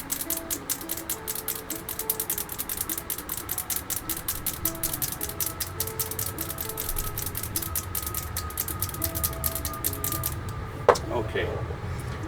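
Rapid, steady rattling of a mixing ball knocking inside a paint bottle being shaken, a fast clicking rhythm for about ten seconds, then a sharp knock.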